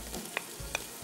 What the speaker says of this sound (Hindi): दही के साथ सारा मसाला जो है वो भुन जाएगा